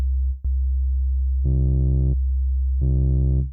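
A low sustained tone runs throughout, joined twice by brighter, harmonic-rich bursts of the same note from the Leapwing Audio RootOne plugin, each about a second long.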